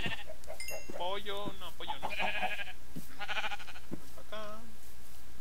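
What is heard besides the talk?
sheep bleating in Minecraft video game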